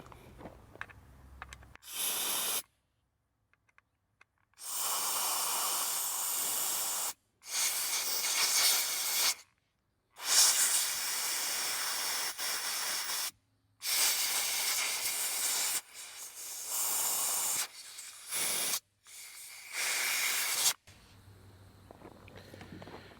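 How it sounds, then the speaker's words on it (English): Compressed air hose blasting through a John Deere D105 lawn tractor carburetor, loud hissing bursts in about six separate blasts of varying length, separated by brief silences, with no talking. "Now I'm gonna take my air hose and blow everything out real good."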